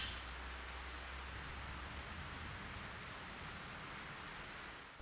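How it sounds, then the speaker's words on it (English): Steady rain in the video game Fatal Frame 3 hisses down in a soft, even wash, fairly quiet and unbroken, with no voices or other sounds on top. "It's raining again."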